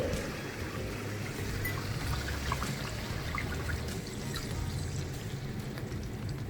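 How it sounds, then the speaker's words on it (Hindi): Two cups of water pour steadily into a pot of browned spices and mutton for a roghan josh curry, a continuous close splashing trickle lasting several seconds with no talk. "मैं इसको लो पे कर दूंगी और मैं इसमें ऐड करूंगी 2 कप पानी"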